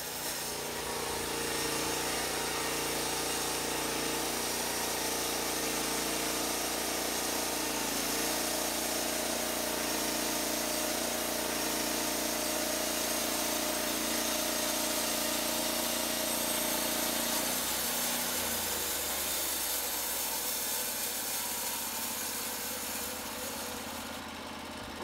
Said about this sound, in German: Man senkt den Sägekopf, aktiviert die Bedienelemente und führt das Blatt durch das Holz.